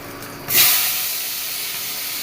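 Potatoes dropped into a hot pan set up a sudden burst of bright sizzling hiss that swells, then settles into a steady, close, continuous frying crackle with no talking.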